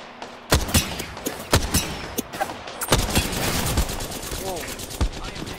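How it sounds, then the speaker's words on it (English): Rapid bursts of gunfire in the video game Apex Legends, loud and close, with shots cracking in quick irregular volleys over a busy firefight, along with some scattered voice. "I am taking fire, friends."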